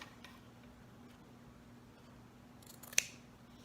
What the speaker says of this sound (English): I put my scissors kind of underneath of it